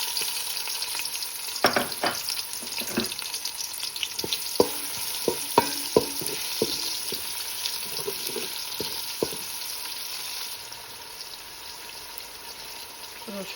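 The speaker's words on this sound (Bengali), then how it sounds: "তেলটা গরম হয়ে গেছে, পেঁয়াজ কুচি দিয়ে দেব।" Chopped onions fry in hot oil and ghee for haleem, with a steady hiss broken by scattered clicks and scrapes of a stirring spoon near the pan. The sound softens toward the end, and no one speaks.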